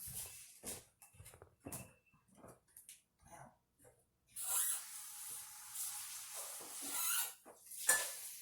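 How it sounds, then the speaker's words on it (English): A pan is washed at a sink with scattered clinks and scrubbing knocks, followed by a longer run of splashing, rushing tap water. "We're gonna wash our pan one more time."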